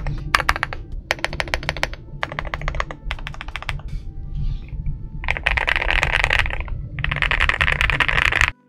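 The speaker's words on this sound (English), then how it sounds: "this keyboard just sounds and feels lovely right out of the box." Typing on an Akko MU01 mechanical keyboard, Mountain Seclusion edition: crisp, close keystroke clatter in several bursts separated by brief pauses, with the later bursts denser and louder.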